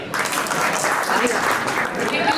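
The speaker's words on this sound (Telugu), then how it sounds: "చప్పట్లు కొట్టండి" An audience at a film pre-release event claps in a steady burst of applause for a couple of seconds while voices carry over it.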